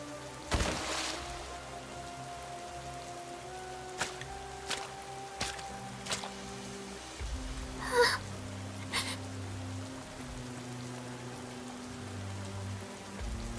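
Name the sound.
rain in video game Goddess of Victory: Nikke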